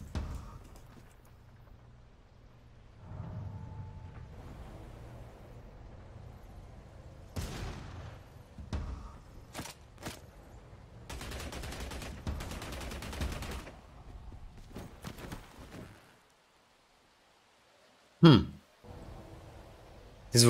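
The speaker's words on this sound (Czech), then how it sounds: "Někdo takhle střílí nade mnou" Gunfire crackles in several bursts overhead in an urban area among buildings, a distant-sounding fusillade of rapid shots followed by a couple of louder isolated bangs, with a voice murmuring faintly early on.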